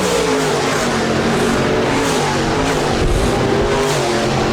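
Modified race cars roar around the Park Jefferson Speedway dirt oval, engines revving loudly and continuously as several cars battle close together, with tire scrub mixed into the dense racing din.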